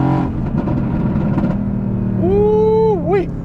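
An AMG car drives on an open road, its engine humming steadily before a quick, loud rev that climbs, dips and climbs again as it accelerates.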